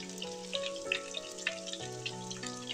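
Potato sticks fry in hot ghee in a pan, a steady close crackle and sizzle with scattered pops running throughout over a faint musical background.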